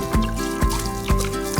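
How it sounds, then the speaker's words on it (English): Liquid poured onto shredded paper in a compost bin, a steady trickle with a few soft splashing pulses, close and alone with no talk. "we're just gonna pour this on here."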